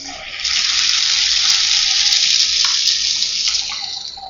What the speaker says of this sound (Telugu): ఇప్పుడు ఈ మిల్లెట్స్ని వాటర్ పోసుకొని రెండు మూడు సార్లు వాష్ చేసుకోవాలి